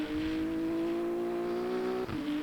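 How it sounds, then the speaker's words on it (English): A GT3 race car engine in Le Mans Ultimate hums on throttle at Spa, a loud, steady buzzing tone that holds and slowly climbs, then breaks off briefly as if shifting gear before picking up again. "you can start applying some throttle, as you can see here"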